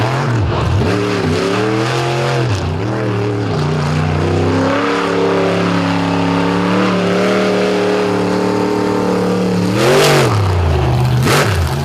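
Dirt Crew Dozer monster truck engine revving loud and close, a sustained roaring drone that rises and falls in pitch with repeated throttle swells, with a sharp surge near the end at a monster truck event.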